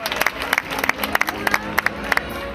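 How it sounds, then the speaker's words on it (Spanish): Scattered applause for a contestant at a Serranilla de Mágina pageant in Huelma, with sharp, irregular claps under a murmuring crowd, fairly close and moderately loud. "Un aplauso para ella, Carolina Díaz, representante de Jódar."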